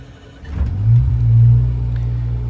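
Generator on a 1993 Sea Ray 330 Sundancer boat cranking briefly, then firing up from a cold start and settling into a steady, loud, low rumbling idle.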